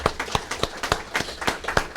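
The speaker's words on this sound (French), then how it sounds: "On applaudit, Luc." Audience applause at a funeral ceremony, a short burst of fairly faint, evenly spaced hand claps.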